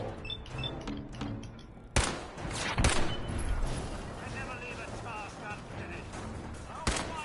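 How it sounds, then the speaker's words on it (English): Enemy gunfire in Fallout 4 from raiders and other hostiles shooting, with several sharp shots cracking over a busy background of game noise and mechanical clatter, and a voice talking along the way. "now we've got people shooting at us as well as raiders"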